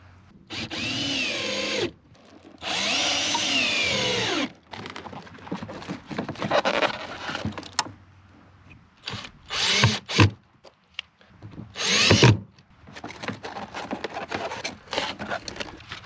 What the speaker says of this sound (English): I'm just going to run a couple of 3-inch deck screws back in